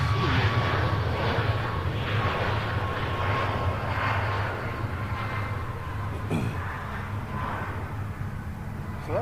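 An airliner arriving from Clemson, South Carolina, flies over Nashville International Airport, making a loud, steady jet engine roar that holds for the whole stretch with no voices.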